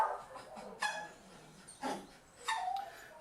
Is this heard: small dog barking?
yes